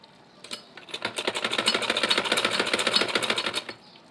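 A sewing machine runs steadily while stitching a neck collar on fabric, ending at the crease. The clear, rapid mechanical clatter is close and continuous for about three seconds, then stops abruptly, with no talk over it.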